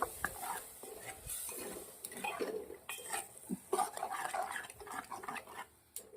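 Yogurt stirred into an onion and potato curry in a pot, a steady run of close spoon scrapes and metallic clinks against the pan with no talk.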